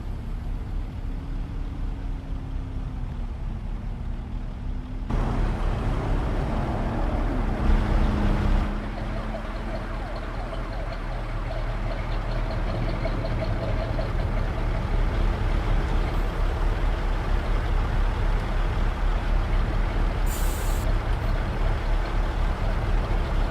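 Truck engine droning while driving in a trucking simulation game, a steady loud low rumble with road noise that swells and shifts gears along the way, plus a brief hiss, without talk.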